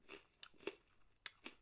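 A crunchy Japanese shrimp snack is chewed close up, with several crisp, faint crunches spaced irregularly over a second or so and no talking.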